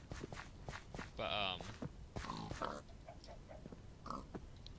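Minecraft gameplay with blocky footsteps stepping steadily across the ground and several pig oinks and grunts nearby, the sounds fairly close and under a voice talking over them.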